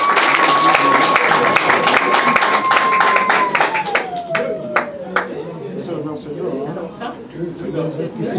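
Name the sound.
applause for a child at a civil wedding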